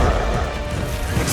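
A short, sharp crashing blast from the Confringo spell in the Hogwarts Legacy video game lands hard and loud for about a second, with a smashing impact layered over dense game noise.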